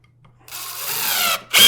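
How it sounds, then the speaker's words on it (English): A power driver whirs steadily for about a second, stops briefly, then kicks in again louder as a 4-inch GRK exterior-grade screw is driven into a wall without pre-drilling, close by. "the screw's fluted, and you just run it right into the wall"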